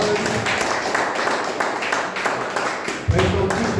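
Church congregation applauding and cheering in praise during a French-language worship service, a dense steady wash of clapping with voices mixed in throughout.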